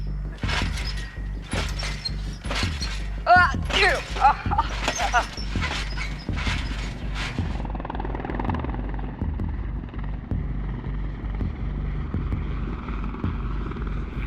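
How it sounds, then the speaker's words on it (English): A helicopter thumps loudly overhead with rapid rotor chopping, then the roar fades into a steady distant drone; a dog whimpers and voices talk underneath. "I like seeing the helicopters fly over our heads."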